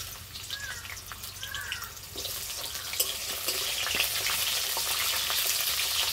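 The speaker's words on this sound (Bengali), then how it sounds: "এবার উচ্ছেগুলো ভেজে নেবো" Bitter gourd pieces frying in mustard oil in a wok, a sizzle that swells louder midway and stays strong, with a few scrapes and crackles, close by and without speech.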